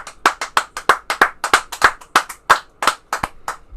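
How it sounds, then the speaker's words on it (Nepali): A church congregation claps together in a steady run of about sixteen sharp, loud hand claps, close and fairly evenly spaced, with no talking over them. "ताली बजाउनुहोस् न।"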